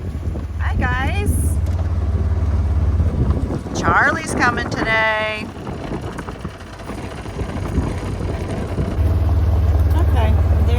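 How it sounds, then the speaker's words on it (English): A vehicle bumps over rutted ground on a farm in strong wind, a steady low rumble and heavy wind buffeting on the microphone throughout, with a person talking close over it. "Sorry, I'm driving. There's some ruts. It's really windy."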